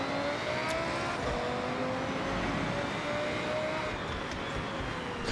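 A car driven in the racing game Forza Horizon 6, its engine droning steadily with rising and falling pitch as it accelerates, loud and continuous throughout with no talk.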